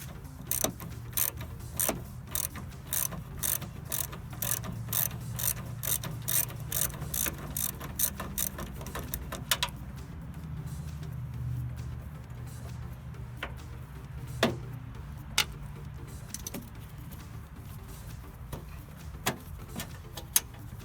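A ratchet wrench clicks in quick, even bursts while undoing a bolt on a Porsche 944, close and crisp, then slows to sparse, scattered clicks and taps in a quiet garage.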